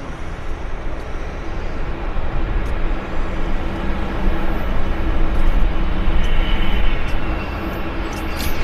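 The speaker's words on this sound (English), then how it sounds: "I'm just going to hold the camera on the Dreamliner until it takes off." Boeing Dreamliner taking off at Vancouver airport, a loud sustained jet engine roar that swells toward the middle and stays steady, heard close with no talk.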